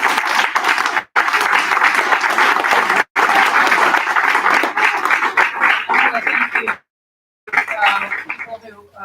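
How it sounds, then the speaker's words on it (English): Audience applause at a county commissioner candidate forum, a long, loud stretch of sustained clapping from a crowd with two brief gaps, fading into scattered claps near the end. "I think they all deserve a round of applause."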